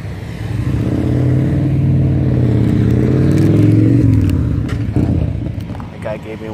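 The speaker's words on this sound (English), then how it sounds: "Gonna wait for cars to pass by." Cars passing on a road near a roundabout at Lake Tahoe, a loud, close engine rumble that swells and fades as a vehicle goes by, followed by lighter road noise.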